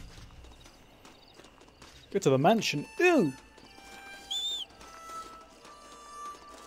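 Horse hooves clip-clop in Red Dead Redemption 2 near a big abandoned house, a soft steady walking patter running under a voice, with a few louder vocal bursts and a brief high call.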